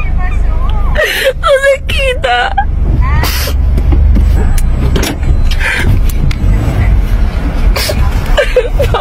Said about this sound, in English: No, I'm moving my car.